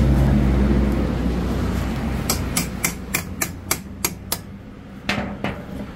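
About a dozen sharp metallic hammer strikes on a bus's loose tire tread ring out at a steady pace over a rumbling engine-like background, fairly close.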